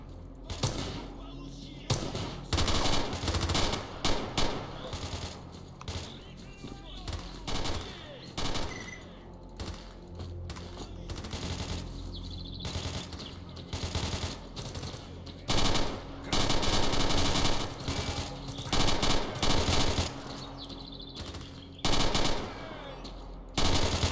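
Dense rapid machine-gun bursts and single gunshots in the video game S.T.A.L.K.E.R.: Clear Sky, loud and near, firing almost continuously with short gaps, with thuds and game noise mixed in.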